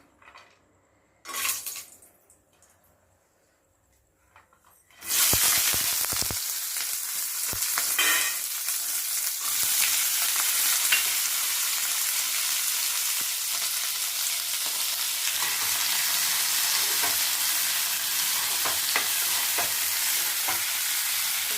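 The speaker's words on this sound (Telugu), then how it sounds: "ఇక్కడైతే కాజు, ఒక 4 పచ్చిమిరపకాయలు, ఉల్లిపాయలు, టమాటా కొంచెం ఫ్రై చేసేసుకుంటున్నాను నేను." Cashews, four green chilies, onions and tomato frying in a pan. After a few quiet seconds and a brief clatter, a loud, steady sizzle swells up and holds, with occasional stirring scrapes.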